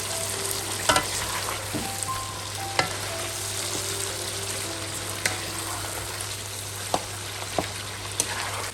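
Spices and bay leaf frying in hot oil for chicken karahi, a steady close-up sizzle with occasional sharp clicks and stirring scrapes against the pan.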